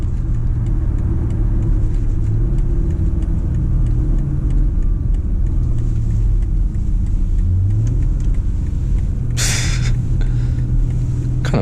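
A 2020 BMW X3 M40i SUV engine drones and rumbles from inside the cabin under hard acceleration, its pitch rising and dropping through repeated downshifts, with a brief sharp burst near the end.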